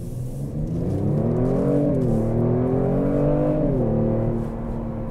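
A 2018 Kia Stinger under hard acceleration gives a loud, steady engine and exhaust drone with harmonics rising and shifting as it pulls through the revs, heard close and continuous with no talk.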